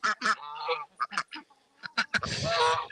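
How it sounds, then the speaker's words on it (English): Mallard ducks on a farm give a string of loud, close, harsh honking quacks in quick bursts with short gaps, alone without talk. "These are two mallards."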